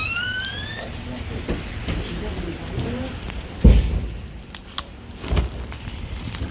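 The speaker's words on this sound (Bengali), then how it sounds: "বাইরে প্রচুর বৃষ্টি হচ্ছে" Steady rain falls outdoors by a hospital, a low wash broken by a few heavy thumps and an early burst of chirping, with faint voices in the background.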